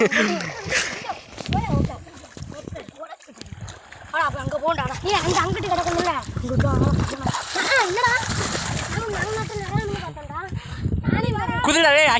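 Water splashes and sloshes as a person wades into a pond while fishing, irregular close splashes heard under almost continuous talking.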